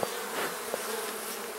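Honey bees swarm around an opened, well-advanced hive with drawn-out frames, a close, continuous high buzzing hum with a few individual bees whizzing past.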